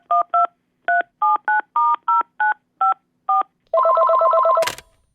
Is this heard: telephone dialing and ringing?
yes